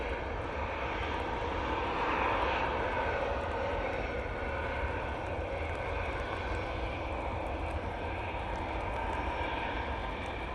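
A passenger jet landing at Manchester Airport on a windy day, a steady broad engine roar heard from a distance, sustained throughout without talk.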